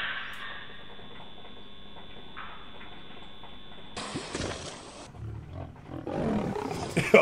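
Tiger roaring, a deep sustained roar that swells and rolls, followed by louder, rougher bursts of growling toward the end, heard alone without talk.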